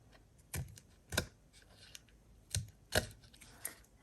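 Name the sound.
scissors cutting around taped index card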